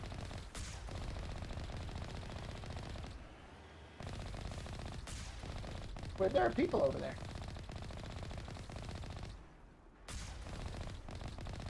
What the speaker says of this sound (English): Oh, do I see people shooting things?